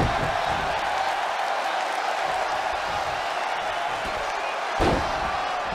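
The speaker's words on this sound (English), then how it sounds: "Listen to this crowd count the next one in." A big arena crowd in a WWE 2K20 Royal Rumble wrestling video game match roars in a constant, dense wash of voices counting along, with a brief swell near the end.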